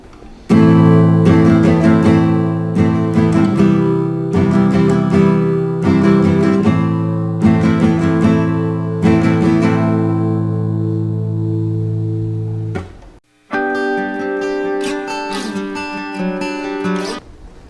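An acoustic guitar plays a simple beginner song, strummed chords ringing out in a steady rhythm, then a brief pause before more plucked and strummed notes, close and loud with no talking.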